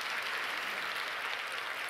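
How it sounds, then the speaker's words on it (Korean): Church audience applauding in a faint, continuous wash of clapping heard from a distance. "우리 유충환 집사님, 박수 한번 주시면 감사하겠습니다."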